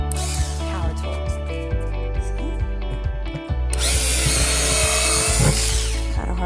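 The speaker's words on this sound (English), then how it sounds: "I'm going to drill a whole bunch of holes in the bottom of this bucket" A power drill bores a series of holes through the bottom of a plastic 5-gallon bucket. The motor whines steadily and closely throughout, rising into a louder, harsher burst partway through as the bit cuts through the plastic.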